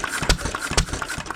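A 100-year-old Taylor Model B vacuum engine runs close by, giving a few loud, irregular puttering thumps over a rough mechanical rattle.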